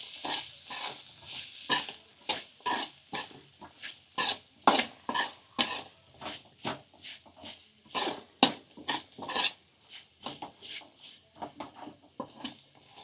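A spoon stirs a spice mixture for masala kachori filling in a pan, giving a quick run of scraping, scooping strokes with a faint sizzle. The strokes are close and fairly loud, with no talking.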